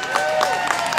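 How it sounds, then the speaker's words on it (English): Dense, steady applause from an outdoor concert crowd in Dufferin Grove Park, many hands clapping together in a continuous wash with brief swells, heard up close for about a second. "Give them a round of applause"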